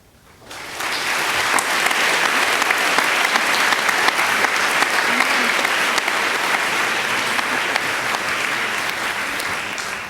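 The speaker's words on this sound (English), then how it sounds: "it's not normal for audiences to applaud benedictions" Audience at a University of Edinburgh welcome ceremony breaking into applause after a benediction, a dense, sustained clapping from a large hall crowd that starts abruptly and holds steady for about ten seconds.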